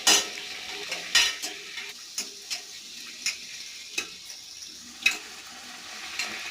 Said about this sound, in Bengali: লুচি ভাজা হয়ে যাচ্ছে।